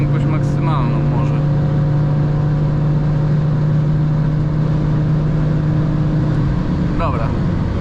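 A 2017 BMW M4 with DKG gearbox, 431 hp, pulling hard toward top speed: a loud, steady engine drone with constant wind and road roar from inside the cabin, holding one gear without a shift.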